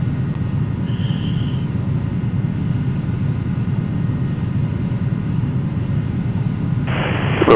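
Challenger 300 jet climbing in X-Plane 11, a steady broad engine rumble and hiss that holds constant throughout, with a brief high tone early and a sudden bright burst of noise at the end.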